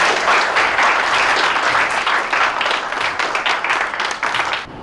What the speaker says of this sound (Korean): 두 분한테 박수 한번 드리도록 하겠습니다.